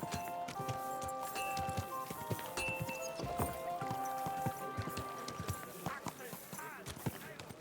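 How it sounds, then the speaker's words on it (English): Hoofbeats from the video game Kingdom Come: Deliverance II clip-clop steadily in a quick rhythm in a market, mixed with background music, bright tones and scattered sound effects. "Get that horse under control."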